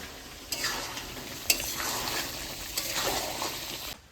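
Mutton is stirred and fried in a pan for a thick, dry-style curry: a soft constant sizzle broken by a few distinct scraping strokes of a spoon against the pan, close and without speech.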